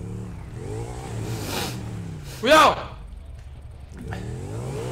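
A large motorcycle engine revs up and roars past in a video game, a brief loud surge in the middle, while excited voices talk over it throughout.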